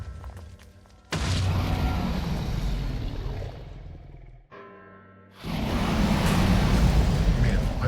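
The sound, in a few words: explosions in a video game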